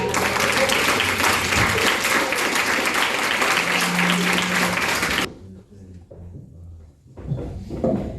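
A Mother's Day concert audience claps after songs, dense sustained applause for about five seconds that cuts off abruptly, followed by quieter room noise and a few scattered sounds.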